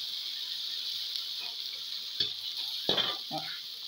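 Egg and fried rice with chicken meatballs stirred in a hot wok for Indonesian green chili fried rice, a steady sizzle with a few scraping stirs and clatters of the spatula, quiet and close.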